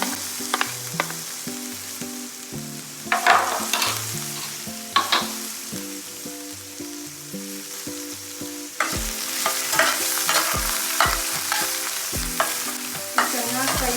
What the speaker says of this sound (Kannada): ಚೆನ್ನಾಗಿ ಫ್ರೈ ಮಾಡ್ಕೊಳ್ಬೇಕು.